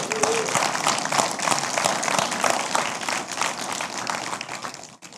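An audience bursts into sustained applause, with many hands clapping densely and evenly for about five seconds before it fades at the end.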